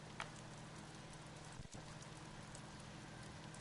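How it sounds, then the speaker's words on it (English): Horse hooves clip-clop at a steady walking rhythm in a video game, continuous and moderately loud over a constant low background hum, with no speech. "My favorite horse friend."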